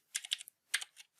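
A password being typed on a computer keyboard: two quick clusters of soft, close key clicks, quiet and alone with no talking.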